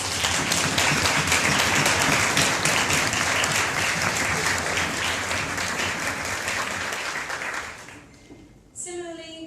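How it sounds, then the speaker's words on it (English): A large audience at a tournament closing ceremony claps loudly and densely for the participants, the applause fading over several seconds before a brief quieter pause and a small sound at the end. "give a huge round of applause to all the participants"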